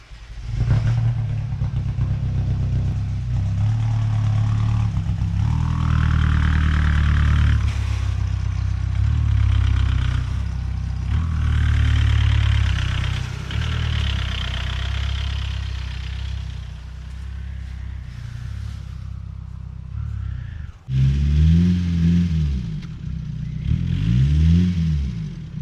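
A manual diesel car engine idles in a snowy garage, a steady low rumble that shifts in pitch as the car moves off, then settles. A brief rougher stretch near the end sounds like gear changes and revving.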